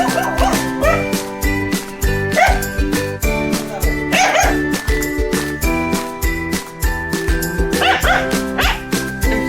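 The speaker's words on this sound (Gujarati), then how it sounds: "અહીંયા સુરેશભાઈના ઘરે કૂતરું પણ છે, નામ મેક્સી છે।" Dog barks and yips in short bursts over steady music with jingling, the barking repeating at a fairly even pace throughout.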